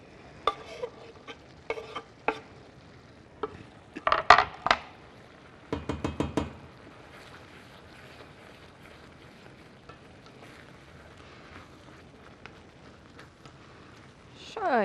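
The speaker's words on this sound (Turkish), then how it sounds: "şimdi pilavım çok güzel bir şekilde pişiyor" Rice pilaf cooks in a pot on the stove while dill is added for stuffed artichokes, with soft spoon scrapes and stirring clinks against the pan, faint and intermittent over a quiet background.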